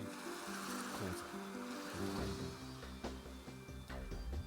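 Ocean waves in the Remember11 video game, a quiet, steady surf wash rolling on beneath soft background music with low tones, and no one speaking.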